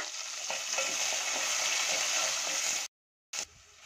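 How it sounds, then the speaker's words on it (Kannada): Chopped onion, green chillies and crushed garlic fry in a pan for a mango dal, making a steady, fairly close sizzle with light stirring. It cuts out briefly before resuming. "ಹಾಗೆ 1 ಈರುಳ್ಳಿ ಕೂಡ ಸಣ್ಣದಾಗಿ ಕಟ್ ಮಾಡ್ಕೊಂಡು ಹಾಕೊಂಡು ಚೆನ್ನಾಗಿ ಫ್ರೈ ಮಾಡ್ಕೊಳ್ಳೋಣ"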